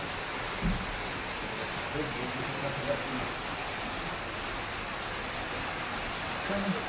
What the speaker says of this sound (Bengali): একটু ধরেছিল, কমেছিল বৃষ্টিটা, আবার নামলো।